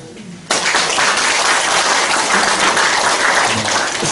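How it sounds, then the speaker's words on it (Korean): Audience applause at a Korean Methodist church ceremony for a bishop's inauguration, starting abruptly after a brief quiet moment and then holding as dense, loud, sustained clapping from a large crowd. "박수가 조금 인색하시네요"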